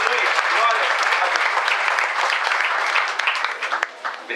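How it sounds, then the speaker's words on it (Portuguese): A church congregation claps loudly and steadily in a dense, continuous wash of applause that thins into scattered claps at the end, with voices mixed in. "Você pode adorar a Deus com a salva de palmas bem forte"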